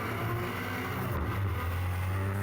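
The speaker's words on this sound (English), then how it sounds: "Full throttle run up, throws it in nice and early." A Nissan S15 drift car in the GT Radial livery at full throttle during a drifting GP event, a loud, sustained engine roar held for a few seconds.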